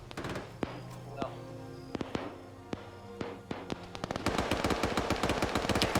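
Rifle double-tap gunfire in Arma 3 during a fight for a hill, with scattered sharp paired shots early and then a dense burst of rapid, loud automatic fire, with a voice talking over it.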